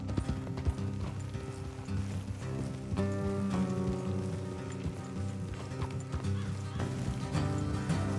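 Steady horse hooves clopping in Red Dead Redemption 2 with music playing throughout, a continuous rhythmic trotting beat at moderate loudness.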